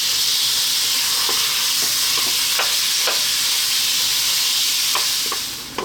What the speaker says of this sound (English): we're going to drop our beef in. And on a medium heat, we're going to stir fry this around for about 4 minutes.